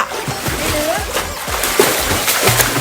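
Water splashing and sloshing as someone plays in a shallow pool at a resort in Sukhothai, Thailand, with repeated splashes close by while someone talks over them.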